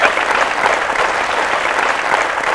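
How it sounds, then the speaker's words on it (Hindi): Steady, dense applause from a television quiz show studio audience, continuous and fairly close, with no clear talking over it. "अरबाज के लिए तालियां।"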